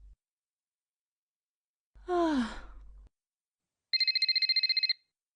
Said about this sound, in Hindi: मम्मी का फोन बज रहा है, किचन में होंगी, उन्हें सुनाई नहीं दे रहा होगा।